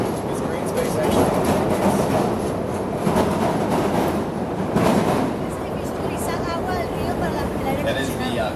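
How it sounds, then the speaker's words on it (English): A Chicago L elevated train passes along the tracks in the city, giving a steady rumble and rattle across the whole clip, with a brief surge around midway. People talk over it. "That was the Chicago L train going by."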